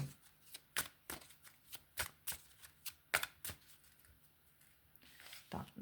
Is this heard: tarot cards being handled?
yes